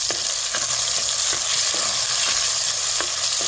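Mustard seeds, cumin, tomato and chopped garlic sizzle in hot oil. The frying is loud and steady, with a dense crackling hiss throughout and faint taps from the pan now and then.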